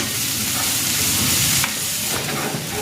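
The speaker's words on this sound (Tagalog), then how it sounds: "Magigisa na ako ng bawang. At ng sibuyas." Garlic and onion sauté in a hot pan for pork kinamatis, making a loud, close, continuous sizzle broken by a few brief stirring scrapes. No one speaks.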